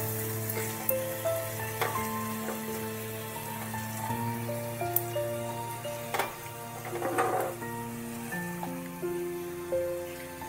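Marinated paneer stirred over a low gas flame crackles and sizzles softly, with scattered utensil scrapes and taps, while sustained musical tones run underneath.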